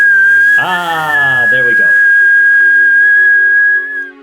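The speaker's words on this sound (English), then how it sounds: "All of a sudden, the tea starts whistling." A whistling tea kettle holds a steady, piercing tone for about four seconds, starting loud and close and fading out at the end, while a person speaks briefly over its first moments.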